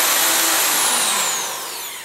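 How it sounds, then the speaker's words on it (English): A power drill bores through a wooden board set over a sink, a steady loud whirring grind with rising pitch that eases off toward the end, no voices over it. "so that if I drill through, it just goes into air"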